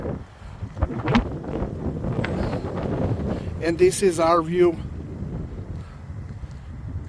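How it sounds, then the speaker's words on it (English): Strong mountain wind in Banff National Park buffets the microphone in rumbling low gusts that run the whole time, while someone speaks briefly over it. "It's extremely windy"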